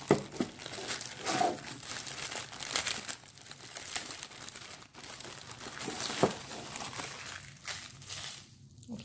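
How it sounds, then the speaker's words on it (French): Plastic packaging of an Amazon jewelry kit crinkles and crackles close up as it is opened, with irregular bursts of rustling and tearing throughout. "Donc ça se présente dans un emballage en plastique et je vais l'ouvrir."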